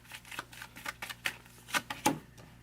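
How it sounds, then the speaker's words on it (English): Tarot cards are shuffled by hand in quick, uneven bursts of riffling and slapping, close and fairly quiet, with no speech. "usually I don't have to shuffle for that long"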